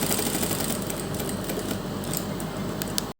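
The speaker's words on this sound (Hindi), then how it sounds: "तो देखिए सिलाई लगाते हुए," A sewing machine stitches a neck design on fabric, its needle running in a fast, even, continuous chatter close by, stopping abruptly at the end.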